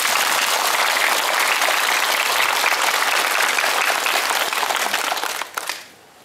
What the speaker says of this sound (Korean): 그래서 박수 한번 크게 한번 칩시다